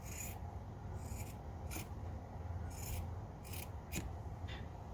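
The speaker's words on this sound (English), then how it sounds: "take my scissors, and we want to just cut this at an angle" Scissors cutting at an angle through material for a Dollar Tree Christmas gnome craft, with about six faint, short crisp snips scattered over quiet background hiss.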